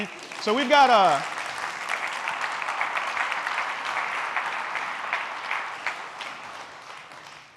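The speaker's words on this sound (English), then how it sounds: "Round of applause." An audience claps in a sustained, dense round of applause at a tech presentation, loud at first and holding steady, with a brief voice at the start.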